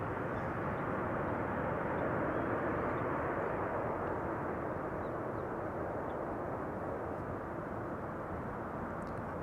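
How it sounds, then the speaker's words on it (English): A steady, broad jet roar from airplanes flying at Amsterdam Schiphol Airport, heard from a nearby field. The noise stays constant and fairly loud throughout, with no talking. "Airplanes over there."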